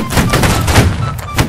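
A line of soldiers fires a musket volley in Holdfast, a loud burst of several overlapping shots cracking close together, followed by a short scatter of further reports.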